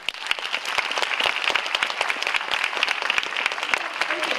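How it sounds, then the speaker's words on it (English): Audience at a forum opening ceremony in Taipei applauds, a dense steady patter of many hands clapping close up, with no voices over it. "Let's give them a big applause."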